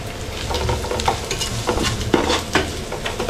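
Fish head curry masala, made with a large Malabar trevally head, sizzles steadily in a pan while a spoon scrapes and stirs through it in repeated close strokes, with no voices.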